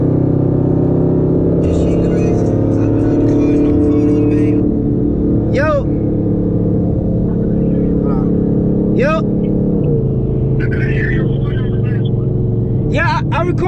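A Dodge SRT Jeep and a widebody Scat Pack car race, a loud sustained engine roar with revving throughout and brief squealing chirps, while people talk and shout near the recording.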